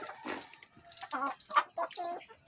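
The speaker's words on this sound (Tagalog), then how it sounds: "Nagumpukan agad yung mga manok." Backyard hens cluck and murmur while feeding, a string of short close clucks and soft calls in a quiet yard with one louder squawk near the start.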